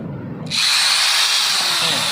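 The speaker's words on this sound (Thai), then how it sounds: "แต่ผมขออนุญาตใช้สว่าน มือครับ ไวกว่า ขันเข้าไป ขันเข้าไปครับ" A hand-held power drill driving a screw to fit a foot support bracket, a sudden loud whine that starts after a short quiet lead-in and then holds steady, close to the listener.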